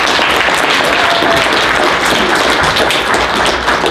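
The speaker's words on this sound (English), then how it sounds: "Give Annette a round of applause." An acting workshop audience gives a round of applause for a participant, a close, dense burst of many clapping hands that stays full and steady with no talk over it.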